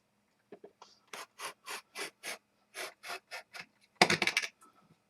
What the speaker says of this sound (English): Then just take my utility knife and cut away.